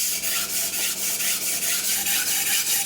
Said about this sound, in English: This is used for lapping your stones.